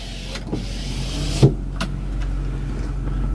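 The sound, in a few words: power sliding rear window of 2008 Ford F350 Super Duty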